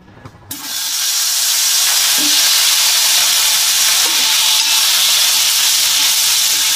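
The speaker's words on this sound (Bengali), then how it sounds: "এবার আলুগুলো ছেড়ে দিচ্ছি তেলে।" Potatoes dropped into hot oil for a Bengali egg curry, setting off a loud, steady sizzle that rises sharply after a brief quiet start and holds a dense frying hiss throughout.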